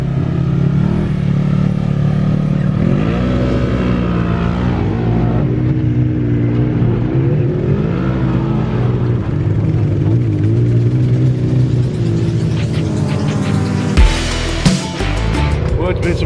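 A Polaris RZR off-road side-by-side roars steadily on a trail at Westpoint, Tennessee, its engine rising and falling in pitch as it revs while riding, loud and continuous with rattling and clatter near the end.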